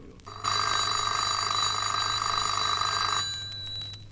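An old-fashioned telephone bell rings in one sustained, rattling burst lasting a few seconds, then stops, leaving quiet room tone.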